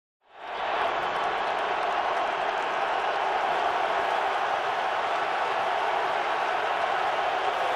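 A packed Detroit football stadium crowd on Thanksgiving, with the Lions hosting the Green Bay Packers, roars in a dense, steady wall of cheering and applause that swells in quickly and holds loud and unbroken.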